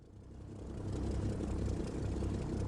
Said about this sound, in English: Engines are started.